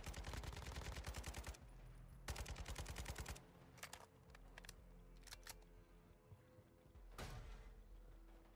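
Automatic gunfire bursts in Call of Duty Modern Warfare 2 DMZ, rapid loud volleys in the first few seconds, then scattered sharper shots and one more short burst near the end.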